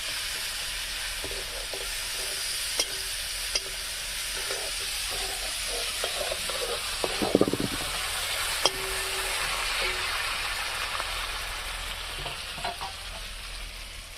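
Chopped tomato and onion frying in oil on a wood-fired stove, a steady hissing sizzle with intermittent stirring knocks and scrapes, and a brief louder clatter midway.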